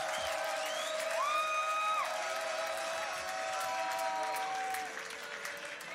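Crowd at a beatbox battle final applauding and cheering in a dense, steady roar for several seconds, with whoops and whistles rising above it before it eases slightly at the end.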